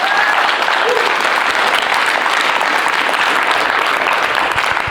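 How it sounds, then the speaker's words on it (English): A corporate training audience claps loudly and continuously, a dense, even wash of applause that fills the whole stretch, with crowd noise under it. "clap very loud if you're grateful to work for ProCom right now"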